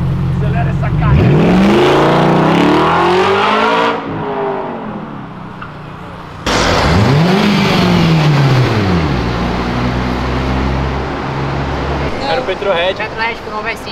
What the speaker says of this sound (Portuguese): Acelera essa carga!